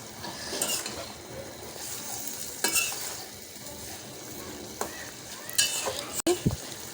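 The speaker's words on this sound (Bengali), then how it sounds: "আর গাজরটা ভালো মতো কষানো হয়ে গেছে।" Carrots and mixed vegetables stir-frying in a pan for a lentil dish, a steady soft sizzle with intermittent scraping strokes of a spatula and a couple of sharp clinks near the end.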